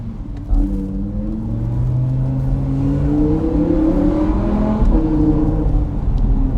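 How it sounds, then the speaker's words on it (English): Audi R8 V10+ fitted with an Akrapovic exhaust, its engine revving loud and close, a deep rumbling note that climbs and swells in pitch across several seconds, with no voices over it. "The pops, the crackles, the theatre from the Akrapovic exhaust system is something like you've never heard before."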